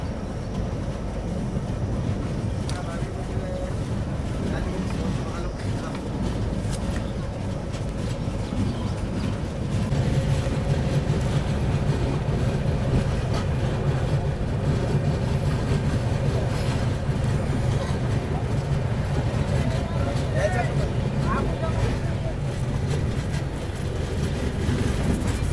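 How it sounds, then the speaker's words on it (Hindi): A Kolkata–Dibrugarh Express passenger train rolls out of Mukoria railway station, a loud, continuous rumble of wheels and carriages that swells slightly as it picks up speed. "अपनी ट्रेन फाइनली निकल रही है मुकोरिया रेलवे स्टेशन से"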